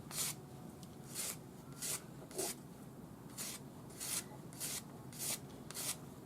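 Rhythmic back-and-forth sanding of a silver turquoise nugget ring on fine grit sandpaper, 600 then 1000 grit, about nine short raspy strokes at a steady pace, close and fairly quiet.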